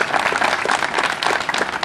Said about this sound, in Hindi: मैं चाहता हूँ जोरदार तालियों से आप स्वागत करें